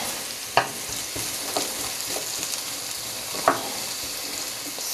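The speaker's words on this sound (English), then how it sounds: "All right, my zucchini is cooking along." Zucchini sizzles steadily as it fries in a pan, with a few sharp scrapes and clicks of a utensil stirring it at intervals over a constant hiss.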